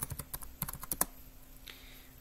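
A username and password are typed on a computer keyboard during a GNU/Linux login: a quick run of close, crisp key clicks for about a second, then quiet room hiss.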